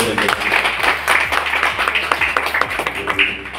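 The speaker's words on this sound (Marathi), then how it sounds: "एकदा जोरदार टाळ्या वाजवून" A crowd at a Navratri aarti in a Nashik old-age home claps for a guest, loud, quick rhythmic claps that repeat steadily throughout.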